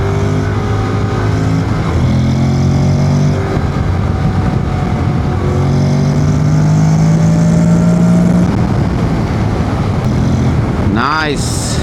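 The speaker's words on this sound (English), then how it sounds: "Nice acceleration, very well balanced bike." A motorcycle accelerates hard in second gear, its engine note rising steadily with loud wind rush throughout, ending in a brief high whine near the close.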